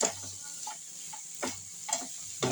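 Grated coconut being stirred and roasted in a pan for banana bonda filling, a quiet continuous sizzle with several soft, evenly spaced stirring scrapes and taps.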